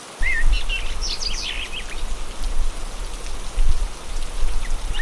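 Steady light rain falls in a cartoon village, a continuous patter with brief chirping bird calls early on.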